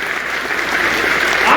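An audience clapping at a university convocation ceremony, a steady crowd of hands in a large hall, sustained and building slightly, with voices faintly underneath.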